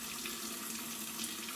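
Warm water runs steadily from a Moen Riley pull-down kitchen faucet, a continuous hissing splash close by with no talking.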